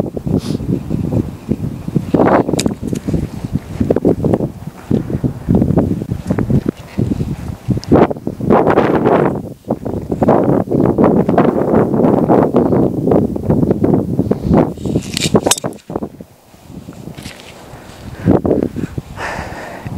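Gusty wind blows across a golf course from right to left, buffeting the microphone with loud, uneven rumbling surges and brief lulls, no speech heard.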